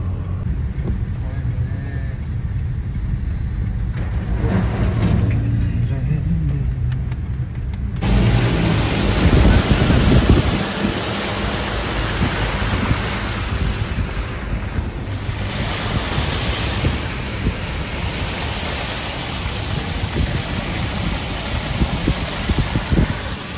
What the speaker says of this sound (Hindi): बहुत तेज बारिश हो रही है, पहले से भी ज्यादा तेज हो गई है बारिश अब तो